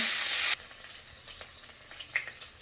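Papaya and drumstick pieces fry in a pan with a loud, bright sizzle that cuts off suddenly. After that come quieter crackles and a few small taps and scrapes, with no speech.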